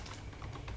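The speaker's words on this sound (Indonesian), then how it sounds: "Kita ketik dulu barang kalimat awalnya" Quick, faint keystrokes on a computer keyboard, typing the opening line of text for a simple receipt design in CorelDraw, a steady patter of soft clicks close to the microphone.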